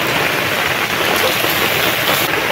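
Heavy monsoon rain pouring down outdoors in a rural setting, a dense, loud, even wash of drops hissing steadily with no pauses.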